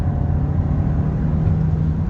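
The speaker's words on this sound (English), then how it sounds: "let's drop it down to second and see how it pulls from second. So there's a little bit of lag, but it picks up." A 2021 Kia K5 GT-Line accelerating in second gear, a loud steady engine and road rumble from inside the cabin, continuous for about two seconds.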